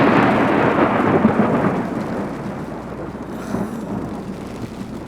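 Deep thunder rumbles from a thunderstorm while sailing among the Greek islands on the way to Skyros, loud and rolling, then slowly fading under gusty wind buffeting the microphone.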